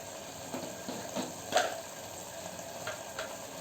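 A coconut rice paste mixture bubbles in a pan, a soft steady sizzle with a few small pops and one brief louder burble, faint and close.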